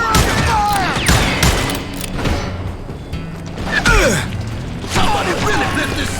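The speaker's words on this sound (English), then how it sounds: "We're under fire!" Gunfire erupts in Call of Juarez: Gunslinger at an outlaw camp outside Parachute, Colorado, with repeated loud shots and booming volleys crackling throughout, mixed with game voices shouting.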